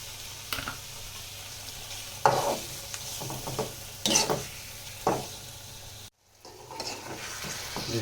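Baim eel fish being stirred in sizzling spice paste and oil, with scraping stir strokes over a steady frying hiss, fairly close and moderately loud, no talking.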